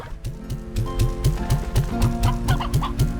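Hens cluck in the video game Slime Rancher 2, a rapid steady run of short clucks sounding close and busy over looping game music, with no speech.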